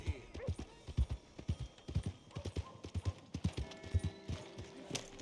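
Steady clip-clop of horse hooves at a walking pace in the video game Red Dead Redemption 2, fairly close, with a voice talking over parts of it.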